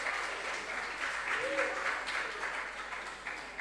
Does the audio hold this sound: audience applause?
yes